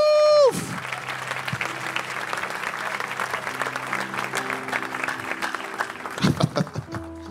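A church congregation at a worship service in Evry breaks into loud, sustained applause and cheering that fills the room almost without a break and swells again near the end. A few voices call out over the clapping.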